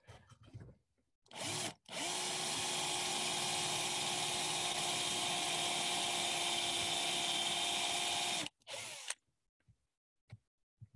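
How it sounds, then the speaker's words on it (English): A power drill spins a bit through wood, starting with a brief burst, pausing, then boring steadily for about six seconds before stopping, followed by a short final whir and light handling noises. "I'm going to line up this drill bit."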